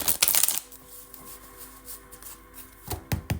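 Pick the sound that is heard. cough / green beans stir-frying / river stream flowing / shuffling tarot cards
shuffling tarot cards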